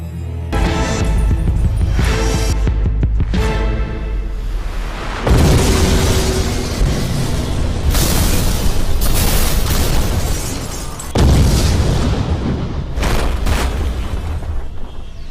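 Loud, dense blasts and roaring bursts of bomb explosions in Mumbai fill the clip, with several sharp, crashing explosions rising out of a continuous rumbling din.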